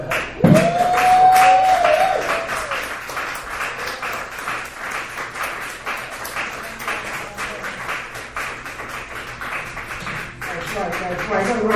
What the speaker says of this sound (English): Another round of applause for the Dustin Lester